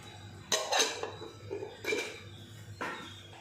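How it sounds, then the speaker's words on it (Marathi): Moong dal vada batter mixed with spices in a bowl: soft scraping and clinking of a spoon against the bowl in a few short bursts, close and fairly quiet. "त्याला पूर्ण मी मिक्स करून घेते।"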